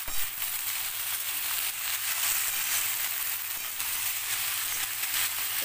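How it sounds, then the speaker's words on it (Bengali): Malabar spinach and vegetables sizzle steadily in a hot pan as they are stirred and fried, a continuous close crackling hiss with no voices. "একটু হালকা হালকা করে ভাজা ভাজা করে নেব।"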